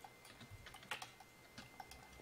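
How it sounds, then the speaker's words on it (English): Faint keystrokes on a computer keyboard come in scattered bursts of quiet clicks, with one slightly louder tap. "I feel like Bobby's typing a dank meme."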